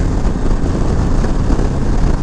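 A 2025 Harley-Davidson Low Rider ST motorcycle runs at speed with a loud, steady engine rumble mixed with rushing wind buffeting the microphone, no talk.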